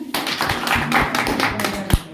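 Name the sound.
applause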